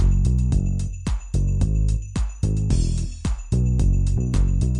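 A pop song plays pitched down with its key shifted lower, a steady loud mix of beat and vocals with rhythmic drum hits throughout and no talking over it.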